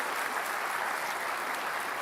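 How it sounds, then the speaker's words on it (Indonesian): Steady audience applause for Anies Baswedan after his opening statement at the final Jakarta gubernatorial election debate. Dense, even clapping from a large crowd holds at a constant level throughout, with no voices over it. "Bisa kita kasih tepuk tangan juga untuk Mas Anies Baswedan untuk pembukanya."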